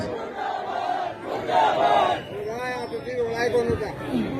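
Crowd at a justice protest rally chanting the slogan "murdabad" in unison, loud voices rising together in short shouted bursts with background chatter, close and energetic.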